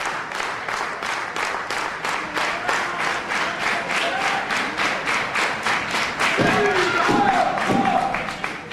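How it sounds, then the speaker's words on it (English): A wrestling crowd at an IWA Mid-South tournament match between CM Punk and Bryan Danielson in 2004 claps in a fast, even rhythm, cheering throughout, with a few heavier thuds near the end. "Crowd encouraging these two men on"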